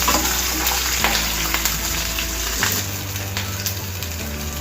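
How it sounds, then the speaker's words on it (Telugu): Tempering spices frying in a pan over a medium flame, a steady close sizzle with light stirring scrapes throughout, alone and fairly loud. "మీడియం ఫ్లేమ్ మీద పెట్టి వేయించుకోవాలండి"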